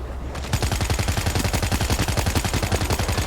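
Rapid, steady automatic gunfire in World War Z as zombies are shot during the New York section: a dense run of loud, evenly spaced bursts that starts after a brief pause and keeps going to the end.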